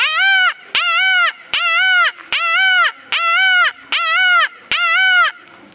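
A government-school boy imitates a peacock's call with his voice, giving seven loud, wavering, nasal cries in a steady rhythm. Each cry lasts about half a second and is separated by short gaps with sharp clicks.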